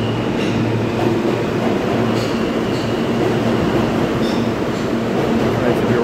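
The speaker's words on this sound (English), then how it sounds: "these trains run about a 6 minute headway" A New York City subway train on the Brighton line rumbles along steadily with a constant loud roar of wheels and motors. Faint clicks and rattles run through it, and low talk sits underneath.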